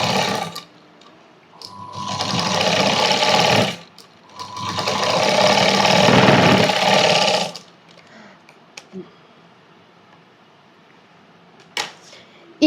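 A sewing machine stitches a cross cut blouse in two long, loud runs separated by a short pause, followed by quieter handling clicks and faint rustling.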